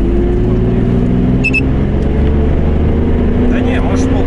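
Mercedes V12 engine with about 400 hp under heavy throttle on a test drive, a loud steady low rumble with rising harmonic tones heard from inside the car, continuous throughout.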